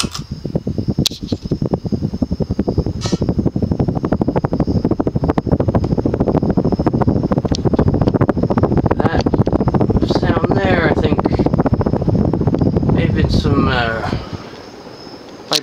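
A 1984 Panasonic Lancelot 42-inch ceiling fan, model F-4225, runs on high speed with a steady close whooshing rush of moving air, while someone talks over it before the sound drops away near the end.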